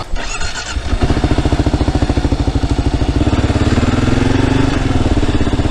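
A Kawasaki KLR650 single-cylinder engine thumps loudly and steadily while riding, a fast even pulse that settles in after the first second, with a slight pitch rise partway through and constant rushing wind.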